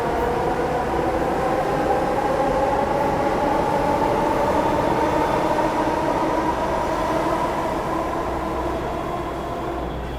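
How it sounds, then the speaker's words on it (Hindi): A New Delhi metro train departs the station, rumbling steadily past with a continuous low rolling drone and a faint rising whine, loud and near throughout, no voices. "अभी अपनी मेट्रो निकल गई है यहाँ से।"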